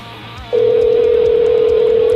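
A telephone ring tone on an outgoing call to a radio show guest, a single loud steady tone starting abruptly about half a second in and holding unbroken to the end, with faint room noise beneath.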